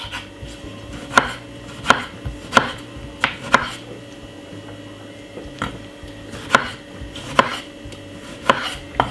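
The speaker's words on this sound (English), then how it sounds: "We're going to cut up 1 medium-sized tomato." A knife chops a medium-sized tomato on a cutting board. About a dozen crisp thuds fall at an irregular, unhurried pace, close and fairly loud, with a soft background hum and no talking.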